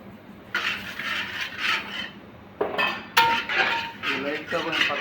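Semolina roasting in a metal pan, stirred with a spoon: rhythmic scraping and rasping strokes against the pan surface with small clinks, close up, and a brief voice partway through.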